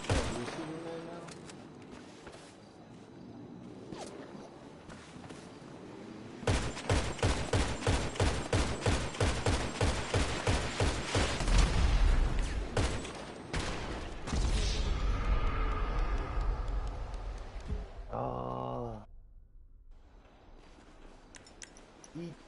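Video game gunfire in bursts of rapid repeated shots, strongest in the middle stretch, with booming impacts and a voice talking in places.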